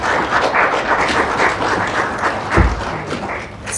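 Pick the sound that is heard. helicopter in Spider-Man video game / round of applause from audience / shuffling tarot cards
round of applause from audience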